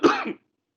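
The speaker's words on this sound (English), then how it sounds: "my apologies for that cough" A single sharp cough, close and fairly loud, during an online council meeting; a short burst of about a third of a second followed by silence.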